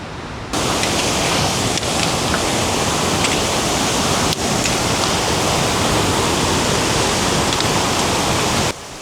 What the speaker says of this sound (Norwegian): Barføtt krysser jeg 2 elveløp.